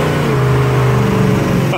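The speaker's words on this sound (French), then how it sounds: "moi j'ai entendu les roues derrière patiner" 1973 Dodge Dart muscle car accelerating with rear wheels spinning, a loud, close, steady engine drone with a rising pitch, heard from inside the car.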